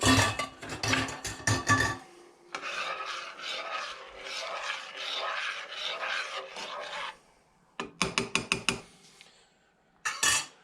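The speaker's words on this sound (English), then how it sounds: "And I think we also want to stir that a bit." Rice being stirred in a cooking pot, bursts of rapid scraping and grating strokes against the metal, close and fairly loud, separated by a longer stretch of softer rustling and brief silences.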